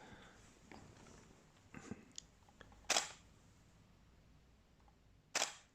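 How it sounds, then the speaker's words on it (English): A Canon 5D Mark IV with a fault that makes it turn off at random, its autofocus switched on: faint mechanical ticks, then two sharp, close camera clicks a few seconds apart against quiet room noise. "I'm going to try switch on autofocus just for example."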